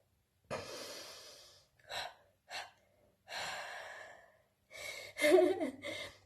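Breathing during a hypopressive exercise, heard as several close, audible exhales and inhales with short pauses between them, ending in a stronger breathy gasp.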